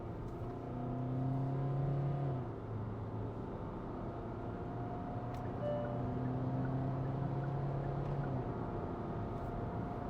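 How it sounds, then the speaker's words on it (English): A 2025 Kia Syros engine pulls hard at full throttle in sport mode, a steady droning rise in pitch heard from inside the cabin, moderately loud with no talk. "sport mode has been engaged, and now just listen to the engine."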